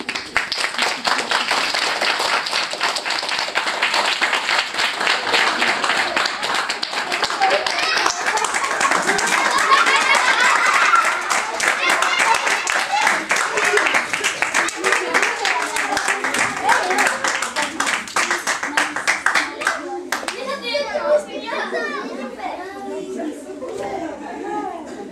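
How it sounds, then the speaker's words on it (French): An audience claps after a shadow puppet show, with sustained applause for about twenty seconds that then fades into chatter and talking. "C'est maintenant qu'on applaudit."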